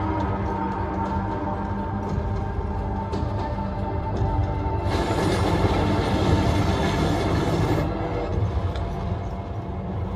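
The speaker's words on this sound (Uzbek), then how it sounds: "Poyezd." A train rumbles past at close range, a loud continuous roar with rhythmic rail noise that swells to a brighter rush midway before easing.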